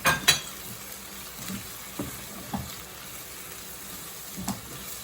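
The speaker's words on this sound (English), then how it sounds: "Let's just cook the sausage for a while." Hungarian sausage and minced garlic frying in a pot, a low crackle broken by several scattered scrapes and knocks of a utensil against the pot, with no one talking.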